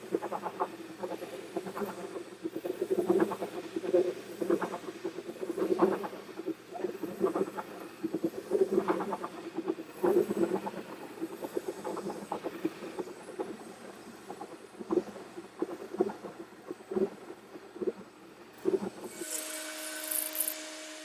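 Concrete grinder fitted with double segmented 80-grit metal bond diamonds working a self-leveling concrete topping, a steady low grinding drone with irregular scraping clicks, moderately close, ending in a brief change of tone.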